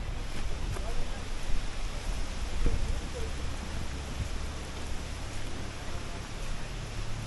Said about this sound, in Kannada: ಫುಲ್ ಮಳೆ ಸ್ಟಾರ್ಟ್ ಆಗಿದೆ ಇಲ್ಲಿ.